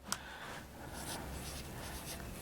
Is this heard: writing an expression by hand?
yes